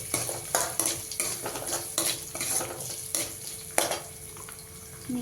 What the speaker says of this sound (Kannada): ಈಗ ಸ್ವಲ್ಪ ಈರುಳ್ಳಿ ಹಾಕ್ಕೊಂತ ಇದ್ದೀನಿ.